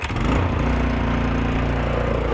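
A lawn mower engine runs just after being cranked, a loud, steady close-up drone with a rough, buzzing tone that holds throughout.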